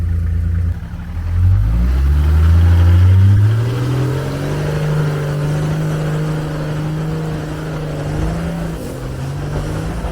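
4WD engine labouring on the steep Mt Sunday track in Victoria's High Country, a loud close rumble that revs up and holds a strained, wavering drone under load throughout.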